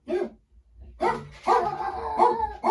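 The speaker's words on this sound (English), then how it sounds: "Sorry, the dogs are barking." Several dogs bark in short, loud bursts indoors, a series of sharp yips and barks with brief gaps, close by and with no talk over them.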